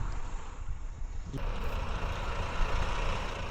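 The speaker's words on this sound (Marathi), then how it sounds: "आणि इथे आता सध्या फुल ट्रॅफिक जाम आहे" Low, steady rumble of idling and creeping trucks and cars stuck in a traffic jam on the Amba Ghat mountain road, with a sharper air-brake-like burst partway through and continuous engine noise throughout.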